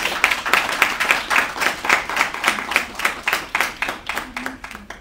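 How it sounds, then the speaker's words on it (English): At an agricultural micro grant award ceremony, an audience claps in a rhythmic, near-unison beat of roughly three claps per second that gradually softens toward the end. "I think you deserve yourself a round of applause."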